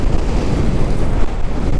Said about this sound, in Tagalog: Yun oh, lakas ng hangin.